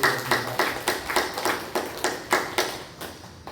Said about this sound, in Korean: 우리 하나님께 또 감사의 영광의 박수를